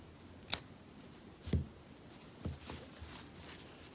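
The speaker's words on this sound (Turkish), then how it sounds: "İpi kesiyorum fazla." Scissors snipping off excess crochet yarn while finishing a cardigan pocket motif, a few short, crisp cuts spaced about a second apart in a quiet room.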